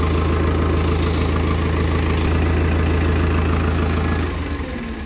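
A second-hand tractor with a side-shift gearbox idles loud and close, its steady low throbbing drone running for several seconds and easing slightly near the end.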